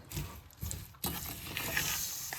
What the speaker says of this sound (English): Then you want to boil it a little bit.